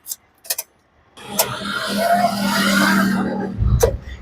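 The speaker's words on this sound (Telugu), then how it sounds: "సింగిల్ సెల్ఫ్ లో కార్ స్టార్ట్ అవుతుంది" A 2015 Maruti Suzuki Ciaz VDI Plus diesel car starts on a single crank after a few faint clicks, its cranking settling into a steady idle, followed by a closing thump.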